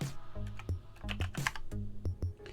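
Quick, uneven keystrokes on a computer keyboard while a package-check command is typed into a Linux terminal. The clacks are close but soft, and no one speaks.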